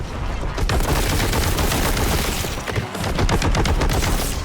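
Rapid, dense gunfire from the Warhammer 40,000: Boltgun game during a boss fight in the Forges of Corruption expansion, a continuous loud barrage of heavy shots with a brief dip midway, no talk.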